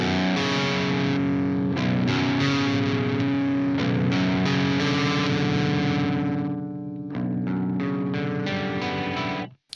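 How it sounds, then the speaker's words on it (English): Overdriven electric guitar through a Boss HM-2 distortion pedal with reverb, sustained heavy chords ringing loud and close, briefly choked near seven seconds before a final chord cuts off. "so we will stick with the overdriven sound."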